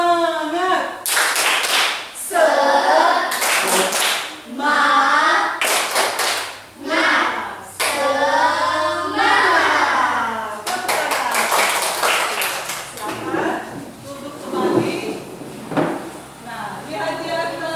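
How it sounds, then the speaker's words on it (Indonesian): A classroom of pupils doing the rhythmic 'tepuk semangat' cheer, bursts of loud patterned hand clapping alternating with energetic shouted chanting, close and lively. "Tepuk semangat."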